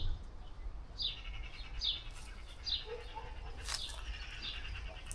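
A magpie gives harsh, chattering calls in a few separate bursts, fairly close, over a quiet outdoor background.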